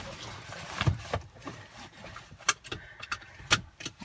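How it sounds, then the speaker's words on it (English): Seatbelt being pulled across and buckled inside a 2011 Volkswagen Golf GTI, a few quiet rustles and clicks with a couple of sharp metallic snaps near the end, alone without talk. "Reach back and get my seatbelt on."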